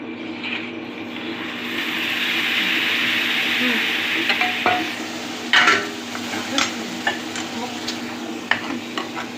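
Ginger garlic paste fries and sizzles in a pan for Thalappakatti biryani, a steady broad hiss with scattered scrapes and clinks of stirring in the second half, no talk.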